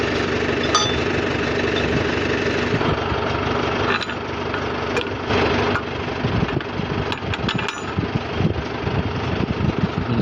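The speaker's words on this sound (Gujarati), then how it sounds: "જવા દો કે નવા ટ્રેક્ટર ચાલુ થઈ ગયું છે" A new tractor engine runs steadily and close by, a continuous loud rattling drone with knocking texture and faint sharper clicks throughout, no voices.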